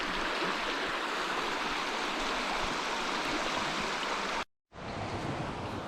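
A small, shallow river about a foot and a half deep runs through Glen Esk, Scotland, with a constant rushing flow close by that cuts out briefly near the end before resuming.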